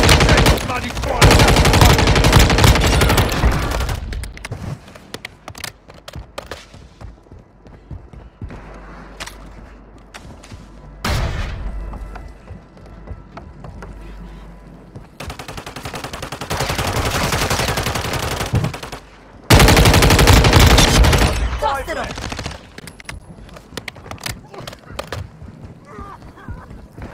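Gunfire in Warzone Mobile, loud rapid automatic bursts in several long volleys separated by quieter stretches of game sound and scattered single shots.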